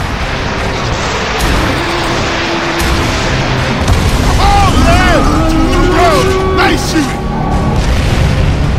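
Ammo crates explode in Gears of War 3 gameplay, heard as heavy booms and rumbling blasts with whooshing, sweeping tones layered over a dense, loud game soundscape.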